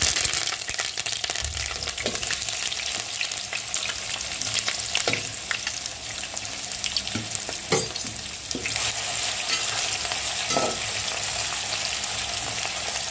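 Three medium potatoes, finely chopped, frying with curry leaves for poha in a pan, a loud, dense, continuous sizzle with occasional sharp scrapes and taps of stirring.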